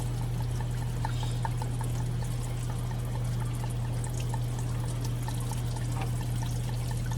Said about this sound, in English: So we'll just pry it open a little bit more just to get some more coolant coming out.